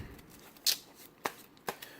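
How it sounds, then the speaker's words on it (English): A deck of playing cards being shuffled for a trading card game, giving a few brief, crisp riffling bursts spaced apart, close and fairly quiet, with no talking. "Get a good shuffle in."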